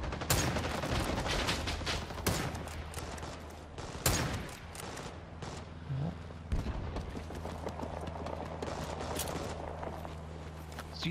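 Machine gun fire and scattered gunshots in a shooter video game, a dense battlefield wash with sharp bursts near 0.3, 2.3, 4 and 6.5 seconds over steady background rumble; no talking.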